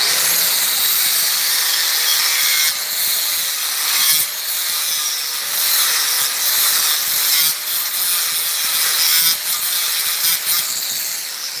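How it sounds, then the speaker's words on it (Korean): An angle grinder grinds steel during welding practice, a loud continuous high whine with steady harsh texture and slight pitch dips as the disc bites the metal. "잠깐 그라인더 한 번만 더 하겠습니다"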